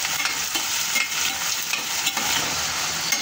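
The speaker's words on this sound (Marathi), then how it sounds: "2 मीडियम साईजचे कांदे बारीक कट करून घेतलेला आहे, तो पण टाकायचा। आता याला छान परतू द्यायचं" Two medium onions, finely chopped, sauté and sizzle in a hot pan for paneer masala, with a steady crackling fry and occasional stirring scrapes, close and fairly loud throughout.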